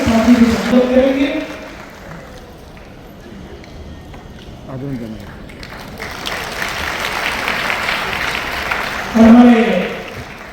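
An audience breaks into a swell of sustained clapping to welcome the governor at a public gathering, rising after a voice on the microphone and continuing under his further speech.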